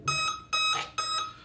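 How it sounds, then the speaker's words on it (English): An E-flite Apprentice S15e RC plane's ESC beeping as its battery is plugged in through an EC3 connector: three clear, loud electronic tones in quick succession, each about a third of a second long, with nothing else heard. "When you plug it in, it will beep."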